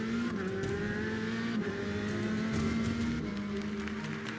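Kart racing car taking the final corner of a track on a flying lap, a buzzing engine note steady then rising in pitch as it powers out, moderately close with no talking.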